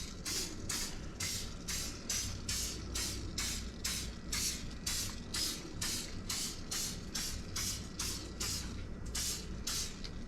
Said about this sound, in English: Just spray each well.